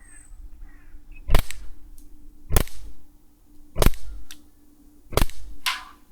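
Four sharp shots from an Umarex Glock 17 air pistol fired outdoors at a canister about 20 meters away, evenly spaced about a second apart, each a crisp snapping crack with a short tail, and no talking.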